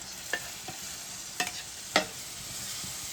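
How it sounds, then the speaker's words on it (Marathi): Wet coconut paste going into a pan of crab curry, with a few distinct scrapes and stirring clatters over a low background sizzle, spaced out and moderately close. "हे जे वाटण घेतलेलं आहे ओल्या नारळाचं, ते पण आपण ह्याच्यामध्ये टाकणार आहे."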